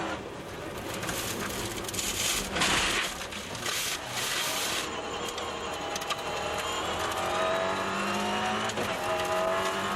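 A 1995 World Rally Championship rally car runs on snow with studded tyres, its engine note rising and falling at a moderate distance over a rough, hissing wash of noise.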